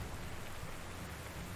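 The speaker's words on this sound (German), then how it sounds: "jetzt wenn es regnet" Rain falls in the World War II strategy game Panzer Corps 2 as a faint, steady wash of dense hiss with no distinct drops or pauses.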